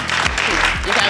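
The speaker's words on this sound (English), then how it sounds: "Clap for them, please." Close, loud audience applause at a student quiz competition, a dense continuous patter of many hands with a voice speaking over it.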